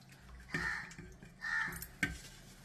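Jackfruit aviyal curry, Trivandrum style, stirred in a pot: three short scraping, sloshing strokes about a second apart, close and fairly soft, with no talking.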